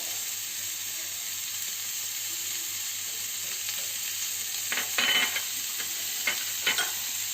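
Shrimp sizzle steadily in a pan with cumin, chili and turmeric powder, a continuous close frying hiss, with a few louder stirring scrapes near the end.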